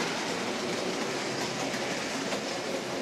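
OO gauge model train, a Hornby-based breakdown train hauled by a small loco with somewhat stiff axles, rolling along the track with a steady close whirring rumble and faint rail clicks, no talk.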